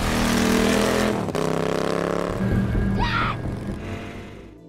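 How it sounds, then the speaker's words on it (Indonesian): A motorcycle in an action film revs loudly up close, its engine note shifting and dropping as it pulls away, with a brief squeal near the end. "memilih segera pergi dari sana dengan menaiki sebuah motor"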